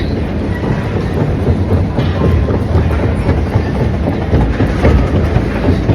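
A Moscow metro train at a station, a loud steady rumble of wheels and running gear with faint clatter, continuous and close throughout.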